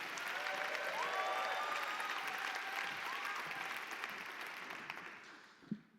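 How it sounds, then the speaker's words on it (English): A poetry slam final audience at the Roundhouse gives a sustained round of applause, a broad dense clatter that fades out near the end, with a few faint voices in the crowd. "Give the man a round of applause."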